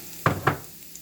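Shrimp dropped into a hot pan of garlic and oil for Jamaican curry shrimp, two quick close hissing bursts that settle into a low steady sizzle.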